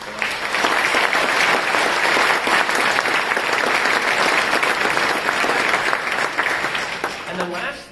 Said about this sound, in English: So just a quick round of applause for them.